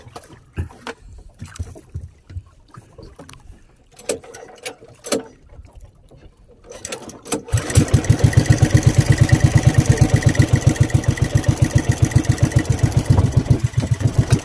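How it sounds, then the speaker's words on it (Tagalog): Small boat engine restarted after stalling: quiet knocks and handling noises, then the motor catches and settles into a loud, close, rapid steady putter while idling. "Namatay makina guys, buhayin."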